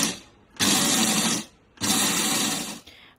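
A mixer grinder grinding dry ingredients, bajra and jaggery for ladoo, whirs loudly in two bursts of about a second each with a short pause between them.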